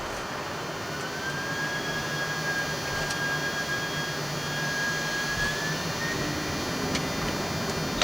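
An Air France Boeing 747's jet engines roar steadily through the takeoff roll, a loud, dense, continuous rush with a rising tonal whine, heard from inside the aircraft without talking.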